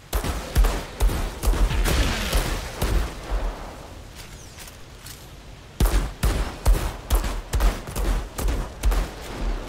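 Heavy gunfire from a gun in the shooter game Outriders, a dense run of rapid, punchy shots with a lull midway, then the bursts pick up again, loud and close.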